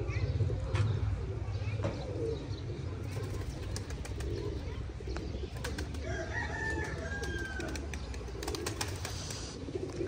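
Pigeons released from a pigeon club loft, soft cooing and faint calls scattered over a low rumbling background, with someone talking at times.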